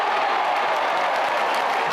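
A large crowd at an ACC basketball tournament roars and applauds in a continuous, loud wash of cheering.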